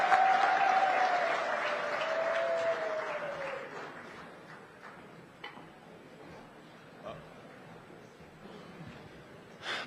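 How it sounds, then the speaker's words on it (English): Audience applause at a SADC heads-of-state summit: a large hall of clapping, strongest at first and then thinning to scattered claps, with a voice briefly heard over it at the start. "may I request the audience to just give us 2 rounds of applause"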